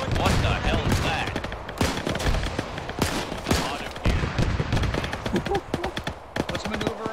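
Heavy gunfire from a big gun in a WWII-era video game, with loud, repeated blasts and rattling bursts filling the scene, mixed with other battle noise and voices.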